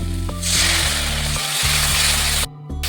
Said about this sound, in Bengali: এবার ভালো করে মশলাটা কষে নেব।